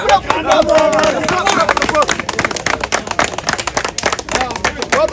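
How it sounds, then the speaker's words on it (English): A street crowd gathered around a preacher claps loudly in quick, uneven bursts, with voices talking and calling out over the clapping throughout. "Let's clap it up for the brother."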